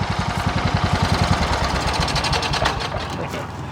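A small Simplicity lawn tractor engine chugs close by with a fast, rhythmic knocking pulse that smooths into a steady running drone.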